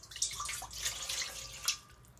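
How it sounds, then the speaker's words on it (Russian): Water for strawberry jam is poured into a cooking pot, a short splashing pour of about two seconds with a few bright surges, close and alone. "Воду мы выливаем в емкость, в которой будем готовить"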